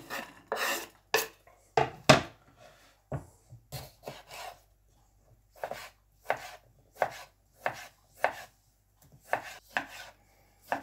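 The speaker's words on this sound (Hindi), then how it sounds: "अब हम टमाटर काट लेंगे।" A knife chops tomatoes on a board, giving crisp close thuds in short bursts with brief pauses between, roughly two dozen cuts at an uneven rhythm, no voices.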